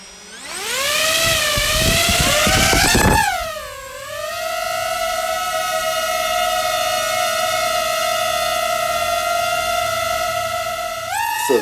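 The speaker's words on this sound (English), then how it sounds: "you can tell and you can hear and feel the propellers working overtime" A DJI FPV drone carrying a GoPro HERO 9 takes off. Its propellers spin up in a loud rising whine that dips, then settles into a steady, high-pitched hum with no voices.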